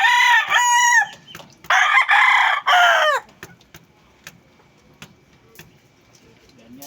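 Pet roosters crow loudly and close by, three long cock-a-doodle-doos in quick succession, followed by quieter clucks and soft farmyard sounds.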